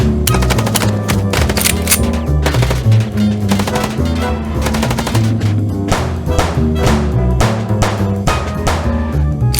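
Rapid gunfire during a car chase in the Chicken Police video game, dense repeated shots hammering loudly and continuously over a thumping low-end backdrop.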